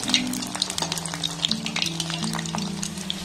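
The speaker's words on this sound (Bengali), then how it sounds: "এগুলোকে আমি লাল লাল করে ভেজে নিয়েছি" Gokul pitha, a sweet Bengali winter cake, fry in hot oil until reddish, sending up a loud, dense, continuous sizzle with bubbling crackles and a few sharp pops, close up and with no voices.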